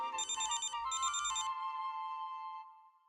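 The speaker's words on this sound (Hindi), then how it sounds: "अरे बीजी का फोन।" A telephone ringtone plays a bright electronic melody in two quick bursts, then settles into a sustained tone that fades out, loud and close with no talking.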